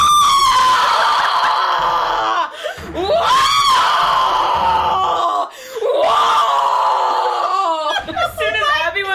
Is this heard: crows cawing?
no